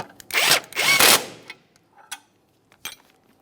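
A wrench snugs down the nut on a front control arm mounting bolt of a 2008-2017 Mitsubishi Lancer, giving two loud, close bursts of rapid ratcheting, then a few fainter clicks and knocks.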